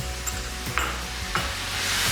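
Sauce stirred into vegetables sizzling in a hot pan, a dense, steady frying hiss broken by a few short scrapes of a utensil across the pan.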